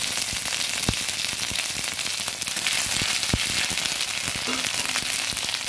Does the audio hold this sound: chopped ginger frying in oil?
yes